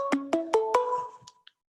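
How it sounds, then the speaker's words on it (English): A mobile phone rings from an incoming spam call, a bright rising electronic tone sequence of four quick notes followed by fading chimes, close and clear with no talking. "I declined the call. I don't know why it's still ringing."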